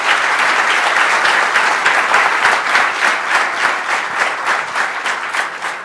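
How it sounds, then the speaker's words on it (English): Loud, sustained applause from a large conference audience, dense clapping that holds steady and begins to taper near the end. "Big round of applause for them."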